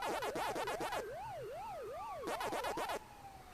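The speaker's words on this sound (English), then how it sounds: "sorry if you can hear the sirens in the background" Emergency vehicle sirens wail in the distance, alternating fast yelping bursts with a slower rising-and-falling tone, faint and continuous with no voices.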